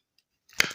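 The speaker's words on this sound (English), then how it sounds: "I thought y'all might want to see when I cut it." Homemade cornbread stuffing being cut, still a little wet, in a home kitchen: near-silence, then one short, close, soft cutting crunch and scrape near the end.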